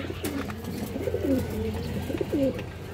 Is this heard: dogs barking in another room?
no